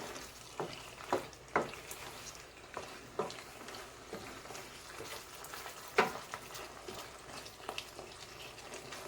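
Jerk shrimp pasta stirred into sauce in a pan gives faint sizzling and wet clicks of the spoon, scattered scrapes coming at irregular moments over a quiet simmer.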